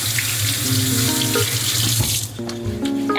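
Running kitchen tap splashes steadily into a sink as hands are washed beneath it, close and loud, with a brief change in the flow midway and no talking.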